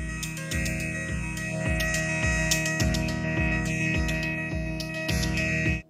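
A steady electronic loop with pulsing bass hits and bright tonal layers runs through the Neuzeit Quasar binaural 3D mixer. The sound shifts position around the listener and stays loud and continuous until it stops abruptly.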